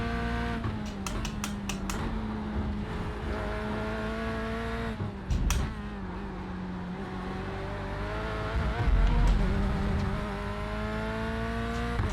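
A Corvette C8.R GTE race car drones steadily under power, its engine pitch rising and falling through gear changes, with sharp clicks early on and a louder surge near the end.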